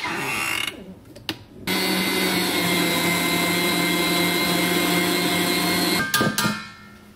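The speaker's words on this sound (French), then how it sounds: "Donc faut pas hésiter à trop fouetter, c'est vraiment pas un problème avec la meringue" A French meringue being whipped with an electric mixer, a steady close motor whir with a whisking rasp that runs continuously for several seconds, bracketed by brief stops and clatter at start and end.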